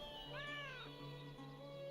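A cat in the Lord of the Rings Online video game gives one clear drawn-out meow over a low steady game hum, close and moderately loud.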